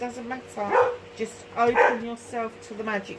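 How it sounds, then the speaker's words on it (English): A female dog barks in short repeated yaps, fairly close, mixed in with a voice talking over them. "Sorry about the dog, she's having a little bit of a hissy fit"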